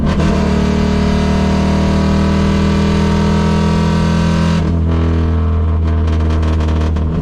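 A Saab Sonett engine runs loud and steady without an air cleaner, a close, droning mechanical roar that holds for several seconds, then dips and changes tone as the revs drop, with no talk over it.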